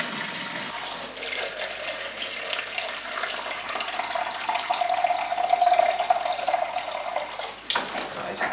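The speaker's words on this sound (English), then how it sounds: "And then fill up 325 of lukewarm water." Kitchen tap running close by, filling a measuring jug with lukewarm water for pizza dough, a steady rushing splash that rises slightly in pitch as the vessel fills, then a brief knock and the flow resuming.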